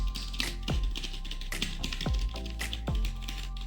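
Keys on a Cosmic Byte CBGK-05 Titan gaming keyboard are pressed in a run of close, crisp clicks and clacks, with occasional heavier taps over a low steady hum.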